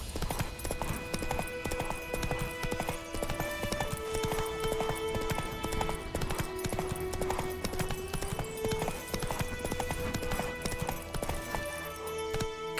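Steady clip-clop of the horse Roach's hooves in The Witcher 3, a brisk continuous rhythm of close hoofbeats over ambient game music with sustained tones.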